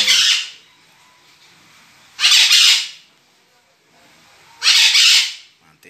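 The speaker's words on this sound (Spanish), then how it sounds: "el sonido de las cotorras, que no se quedan, están en hacer bulla hoy" Pet parakeets (cotorras) give three loud, harsh squawks spaced about two seconds apart, each lasting roughly a second, close to the listener with quiet between calls.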